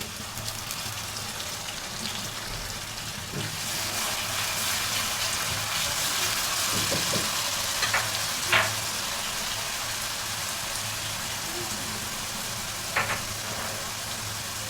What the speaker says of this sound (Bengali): তারপর ব্লেন্ড করা পেঁয়াজ দিয়ে দেবো, বাটা পেঁয়াজ দিয়ে দেবো